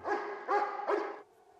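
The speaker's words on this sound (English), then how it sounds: "And when you hear Kaiser barking" A police dog lets out three loud, sharp barks in quick succession, close by, followed by a brief quieter whine.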